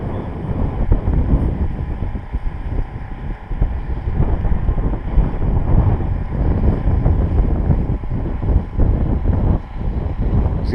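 Wind gusts across the microphone at an outdoor model airplane field, making a constant, loud, buffeting rumble with no talk.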